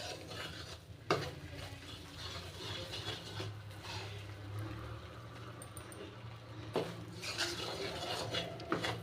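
Gram flour roasts in a pan for besan barfi and is stirred continuously, giving a steady scraping and stirring sound with a faint sizzle, close and moderately loud.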